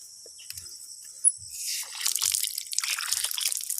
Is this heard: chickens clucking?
no